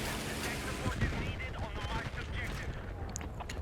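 Leopard 2 tank gameplay on the Eastwood map: heavy, booming cannon and gunfire blasts over a constant rumbling battle din, with a few sharper impacts scattered through and voices mixed in.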